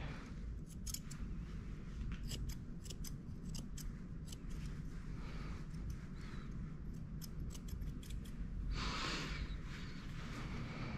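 Scissors trimming a Shih Tzu puppy's fur, a steady series of soft, close snipping clicks in quick irregular runs over a quiet background.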